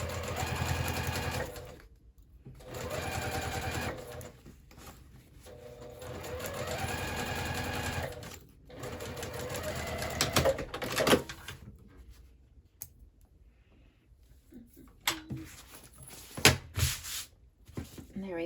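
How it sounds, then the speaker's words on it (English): A sewing machine bastes straps onto a handbag in several bursts of steady stitching separated by short pauses, with softer handling noises toward the end. "I'm going to go ahead and fold back the straps again so that I'm not sewing through those"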